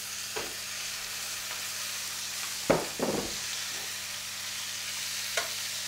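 Large tomato chunks go into a hot pan for a baked mackerel and clams dish, setting off a steady sizzle with two or three louder hissing bursts as they hit the fat. No one speaks.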